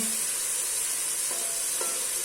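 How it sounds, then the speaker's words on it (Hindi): Steady, loud sizzling of masala frying in a hot pan for beetroot rice, a continuous hiss with faint stirring scrapes. "तकरीबन 3 से 4 मिनट हो गए हमें इनको फ्राई करते हुए"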